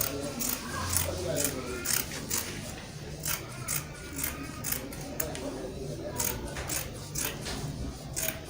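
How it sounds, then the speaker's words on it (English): Scissors cut through Ankara fabric for an off-shoulder dress, making a steady series of crisp snipping clicks, close and evenly paced, while a voice talks softly underneath. "So the next thing to do now is to cut it out."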